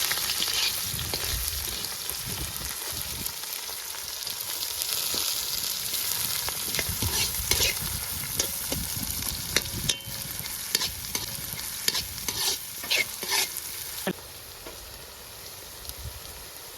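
Garlic, ginger and chili sauté in a hot pan for a village-style egg curry, with a steady close sizzle throughout and irregular clicks and scrapes of stirring that ease off near the end.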